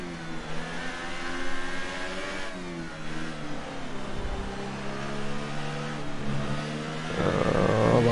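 Race cars accelerate through a left-right-left series of esses, their engines whining and climbing in pitch as they pass, with steady mid-level engine noise throughout.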